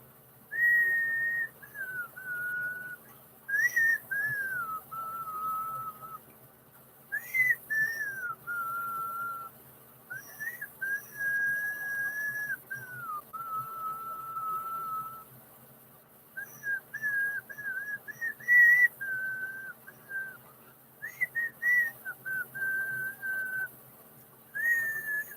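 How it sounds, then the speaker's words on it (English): A person whistles a slow, wavering tune alone, long held notes in short phrases separated by pauses, fairly quiet and close. "I can't even whistle great."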